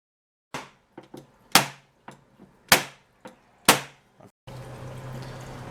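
Staples being driven around the edge of a guinea pig cage: sharp, close impact clacks come at an uneven pace, several of them loud, before a steady hiss of background noise sets in.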